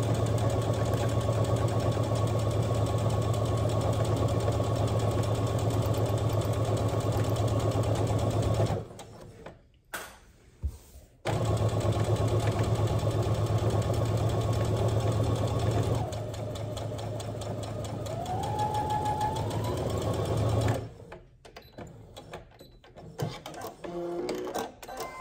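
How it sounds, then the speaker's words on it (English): Sewing machine running steadily as it stitches the seam of a drawstring backpack, a close, continuous motor hum with two short pauses, then a slower stretch of stitching near the end. "then I'm gonna finish sewing all the way up."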